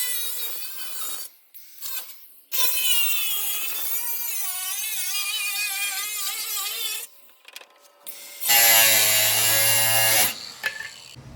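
Power saw cutting a metal body panel on a 1961 VW Beetle, a loud whining grind with shifting pitch in long bursts broken by brief pauses, ending in a harsher, louder cut.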